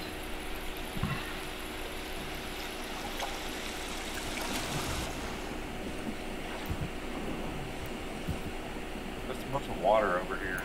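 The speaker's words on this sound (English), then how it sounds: "Water over here." Steady flowing water rushes and trickles in a room full of water in the survival game The Forest, a constant wash running under faint player chatter.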